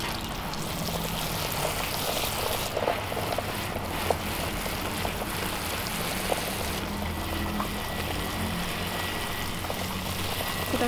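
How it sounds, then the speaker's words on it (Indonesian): Plain water poured over a Philodendron melanochrysum cutting, a steady broadband splashing and trickling that runs continuously at even loudness, with a few small drip-like clicks and no talking. "Kita siram menggunakan air biasa aja."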